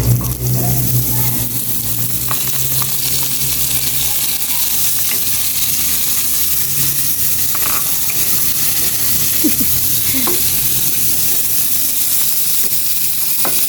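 Carrots stir-frying in a pan give a steady, loud, close sizzle and hiss throughout, with occasional scraping and clinking of the utensil as they are stirred.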